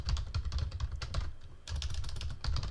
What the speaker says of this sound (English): I'm typing all things wrong today